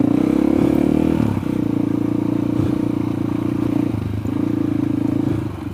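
A motorcycle engine drones steadily up close on a single-track off-road trail, with rattling and clatter over rough ground as it rolls along, no voices.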